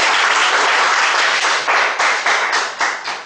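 A speakers' forum audience applauds a speaker after a job well done, a dense burst of close clapping that fades in a few uneven swells toward the end.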